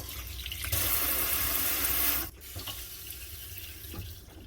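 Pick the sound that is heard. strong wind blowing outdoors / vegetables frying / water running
water running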